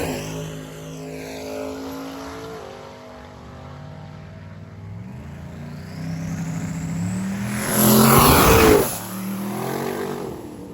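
A Fox body car and an LS-swapped Dakota truck rev their engines at a drag race on a hot day, the rising engine tones shifting and building to a loud, close roar of a launch before easing off.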